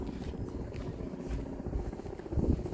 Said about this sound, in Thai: เฮลิคอปเตอร์บิน